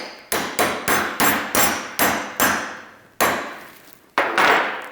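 A hammer taps a locking pin on a MUSKOX MAX ATTACH 6-14 back down with eight sharp metallic strikes. The first six come in a steady rhythm, then there is a pause before two more blows. The strikes are loud and close, each ringing briefly.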